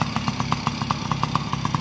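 A 2012 Yamaha PW50 small off-road motorbike engine runs just after a kick start, a close, quick, even putter at a fast idle throughout.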